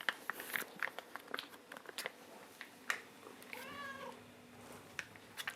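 A cat meows while being offered chicken indoors, a clear rising-falling meow near the end amid scattered clicks, small taps and soft handling noises.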